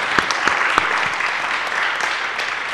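An audience at a talk on zero-carbon building roadmaps applauds the speakers Raphaël and Lucie: steady, moderately loud clapping from a room of people, with a few sharper individual claps near the start, sustained without talk.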